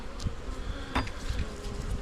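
A dense swarm of honey bees hums steadily at close range around a hive where a queen's cage sits, with a few sharper buzzes as individual bees fly past.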